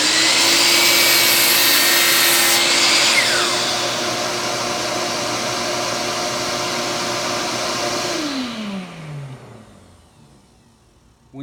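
A powered miter saw cuts through wood in a shop, a loud high whirring motor with a harsh cutting rasp that holds steady for several seconds, then winds down and fades out as the blade spins to a stop.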